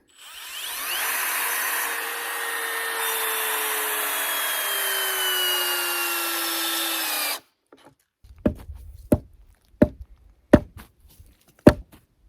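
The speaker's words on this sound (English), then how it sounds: "I'm going to start by crisscrossing 2 of these screws." Cordless drill driving long screws into a log gate for an off-grid mountain cabin, a steady loud whir of about seven seconds, then a series of sharp knocks and taps as the pieces settle.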